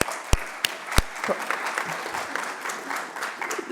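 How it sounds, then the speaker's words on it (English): A short burst of clapping from a small group at a plenary session, with a few sharp loud claps at the start followed by scattered softer applause. "let's give Tyler a round of applause"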